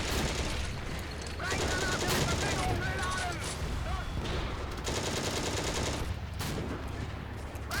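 Tank gunfire in the video game Steel Fury, during an airfield assault: dense, rapid bursts of shots and heavy bangs run through the clip at a steady loud level, with a voice speaking over the battle.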